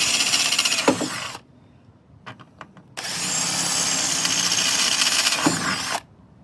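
A power drill whines loudly in two long bursts, boring 7.5 mm rivet-nut holes through soft metal on a Mini Cooper S, with a few short clicks and a pause between.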